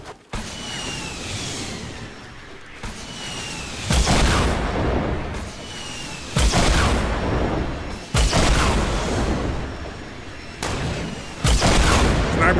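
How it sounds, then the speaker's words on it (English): Rockets fired in the video game Fortnite: a series of about six loud, close blasts with sharp onsets, spaced roughly two seconds apart, each trailing into a rushing roar. "I can start shooting rockets at them"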